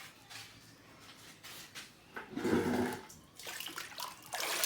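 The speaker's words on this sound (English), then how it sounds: "Wash off the loose feathers and see if there's any more to refine down." Water splashes and runs over freshly plucked backyard meat chickens as loose feathers are rinsed off, a close, irregular wash with a louder surge midway and more splashing toward the end.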